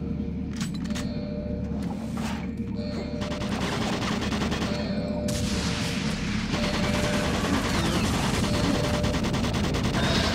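Automated turret guns fire in Doom 3 BFG as a dense, steady fusillade of rapid gunfire that continues throughout, with metallic ticks and clatter over a constant low drone.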